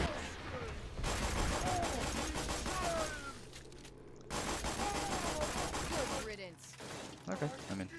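A shock weapon fires rapid crackling bursts in Borderlands 2, with two long volleys of dense gunfire separated by a short pause, and a voice talking under the shooting.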